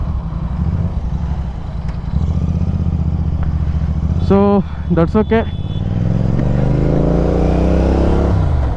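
A Royal Enfield GT motorcycle engine runs just after servicing, a steady low rumble that rises slightly as it revs near the end, with someone talking briefly over it.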